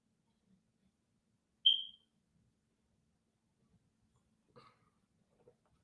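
A home smoke detector gives a single short high-pitched chirp in an otherwise quiet room, followed by faint scattered knocks and rustles.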